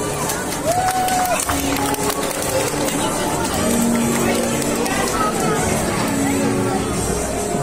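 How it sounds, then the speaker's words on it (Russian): Audience clapping and cheering at a children's dance contest, a steady crowd wash with chatter and shouts of children and adults mixed throughout. "Аплодисменты."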